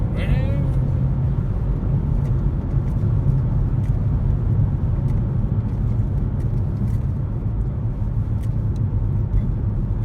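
A BMW M140i Shadow Edition hot hatchback's engine drones in a steady, loud low rumble as it accelerates, with cabin road noise throughout and a person's voice faintly present.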